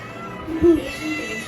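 A cat gives a single short meow at close range in the middle of a household scene, sounding over a steady room background with faint voices nearby.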